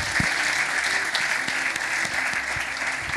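A church congregation applauds, a dense, even wash of many hands clapping continuously at moderate loudness throughout.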